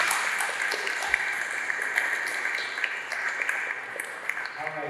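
An audience at a college manufacturing talk keeps up a steady round of applause, dense clapping throughout with a slight easing toward the end and faint voices mixed in.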